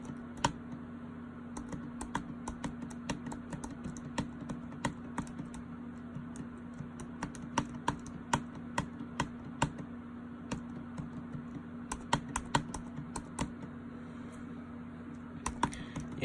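Fingers tap on a 2019 MacBook Pro keyboard in a steady run of sharp, close keystroke clicks, some in quick bursts and others spaced out, over a low constant hum.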